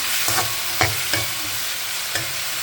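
Onions and tomatoes sizzle steadily in a pan for a Tamil fish curry, a constant frying hiss broken by a few soft scrapes of stirring.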